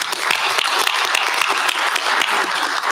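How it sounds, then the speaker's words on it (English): Round of applause at a university system board of supervisors meeting, dense steady clapping from a roomful of people, fairly loud and continuous with no speech over it. "So let's give our team a round of applause for what they did."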